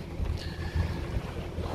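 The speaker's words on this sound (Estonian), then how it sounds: "purjed takistasid ja nüüd ainult mootoriga edasi" Sailboat motoring without sails along the northern Estonian coast near Suurupi lighthouse, a steady low engine rumble with wind buffeting the microphone and faint water wash, continuous and fairly close.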